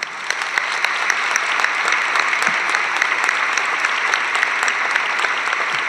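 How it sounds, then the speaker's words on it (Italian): A conference audience at an Italian geopolitics festival bursts into sustained, loud applause to welcome Romano Prodi, dense clapping that holds steady throughout with scattered sharper claps standing out. "vorrei salutare con un applauso"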